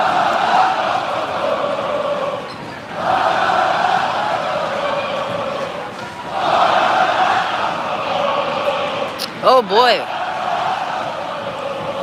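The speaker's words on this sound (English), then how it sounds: "we got a nice, exciting crowd here tonight" A lively crowd roars and murmurs at a girls' OSAA 6A high school basketball semifinal playoff between Clackamas and Jesuit. The swelling noise rises and dips, with someone talking over it.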